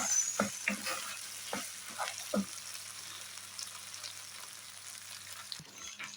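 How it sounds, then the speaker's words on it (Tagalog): Tomato paste and corn for macaroni are stirred in a pan over heat, giving a steady soft sizzle broken by several distinct scraping strokes of the spoon in the first half, then continuous frying. "Hinalo na natin guys ang tomato paste at saka yung mais."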